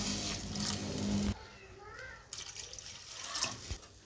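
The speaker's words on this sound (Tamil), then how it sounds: "இப்போ நம்ம இது கூட கொஞ்சம் தண்ணி சேர்த்துப்போம்" Water is poured into a pan of rasam in short close splashing bursts, separated by a quieter gap.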